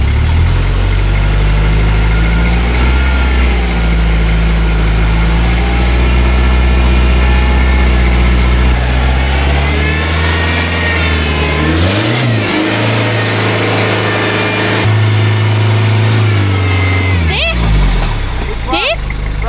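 An LN106 3.0 turbo diesel 4x4 with 80 Series diffs and leaf springs works hard off-road while digging in, its engine loud and close, revving and labouring with rising and falling pitch throughout.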